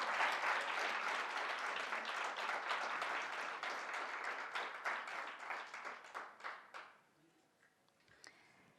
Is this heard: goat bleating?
no